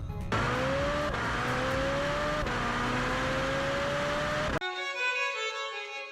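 A Ferrari engine revving through a back-box exhaust, loud and close, a steady rising drone with a few stepped pitch climbs, then cutting off sharply into a brief tail of faint higher tones.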